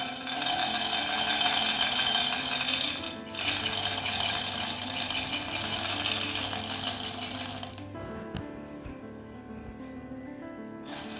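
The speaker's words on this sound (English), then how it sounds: "Now I have my pan here. Pour in your peanuts." Peanuts pour into a pan for warming while making homemade peanut butter: a dense, loud clattering rattle runs for about eight seconds, then stops and leaves a quieter tail of scattered settling ticks.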